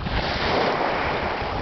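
Ocean surf at Ningaloo Reef, heard as a steady, loud wash of breaking waves with wind noise buffeting the microphone, continuous with no voices.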